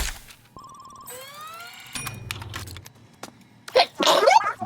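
One loud, sudden sneeze bursts out near the end, close and forceful, after a stretch of electronic game tones and beeps.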